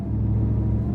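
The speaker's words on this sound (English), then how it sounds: "Listen to that supercharger whine." The steady, loud, low rumble of a supercharged pickup truck engine with a solid rear axle while cruising, with supercharger whine, droning evenly throughout without any voices.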